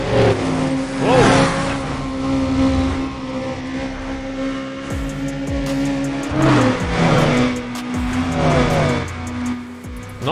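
A fast car in Need For Speed Undercover, its engine droning steadily at high speed. Tires squeal in bursts and gears shift, close and loud, with no talk.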